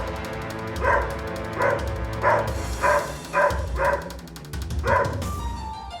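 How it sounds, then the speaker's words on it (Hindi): A Labrador dog barking loudly at a cobra inside a home, giving about eight sharp, evenly spaced barks at close range over a steady background hum. "जोर जोर से भौंकना शुरू कर दिया"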